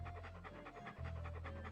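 A dog pants in the video game Monkey Island 2, rapid rhythmic breaths close up and steady, with a low drone underneath.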